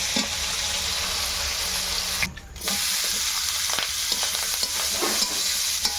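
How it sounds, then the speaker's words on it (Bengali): Fish pieces, head included, fry in hot oil for a village-style Bengali fish curry, giving a steady, close crackling sizzle that briefly drops away for a moment before resuming at full strength. "এইভাবে আমরা মাছ ভেজে নেব পুরো"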